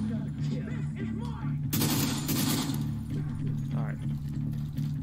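Automatic turret machine gun fire in The Division 2 open beta rattles in bursts, with a heavy volley in the middle over game engine hum while someone talks.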